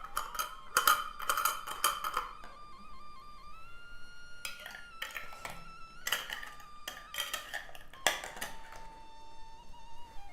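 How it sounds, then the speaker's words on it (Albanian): Metal lids being screwed tightly onto glass jars of quince compote, a series of near, sharp scraping clicks and clinks in bursts with a ringing glassy tone between them, no talk. "Kështu në mënyrë të njëjtë bëjmë mbylljen e gjithë kavanosave. Mbyllim fort."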